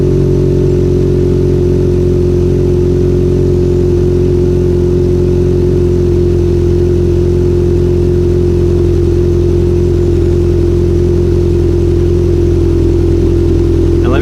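A Subaru WRX/STI with a Milltek exhaust and HKS equal-length manifold idles with a steady, deep, smooth exhaust rumble, loud and close, holding a constant low drone throughout.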